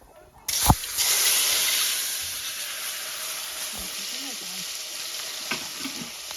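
Mushrooms dropped into smoking-hot oil for a Kashmiri Wazwan-style dish, a loud burst of sizzling that settles into a steady hiss, with a few faint knocks and brief low murmurs underneath.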